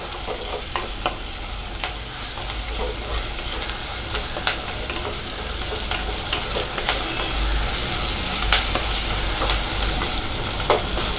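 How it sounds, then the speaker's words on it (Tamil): Sliced large onions and garlic sauté and sizzle in hot oil in a pan for Tamil fish kulambu, a steady loud frying hiss with occasional stirring clicks and scrapes, no voice. "இப்போ பெரிய வெங்காயம், பூண்டு, இதை வந்து நல்லா வதக்கிக்கோங்க."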